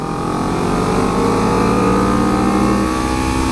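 A loud truck engine roars steadily nearby as the truck drives past, a continuous mid-pitched rumble without pauses.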